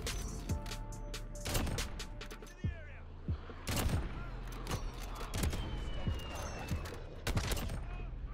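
Sharp sniper rifle shots in Call of Duty: Modern Warfare crack out one at a time at irregular intervals, loud and close over steady game background noise.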